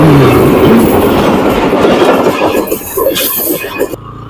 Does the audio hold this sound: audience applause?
no